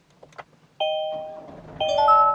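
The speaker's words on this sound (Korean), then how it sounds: "시동 한번 걸어볼게요." Kia Sorento interior as the smart key starts it: two clear electronic ignition chimes ring out close by, the second followed by a rising multi-tone melody, with soft handling noises beforehand.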